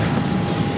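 Airplane taking off from runway 22 right at Boston Logan airport, a steady broad engine roar with no breaks, heard from a distance throughout.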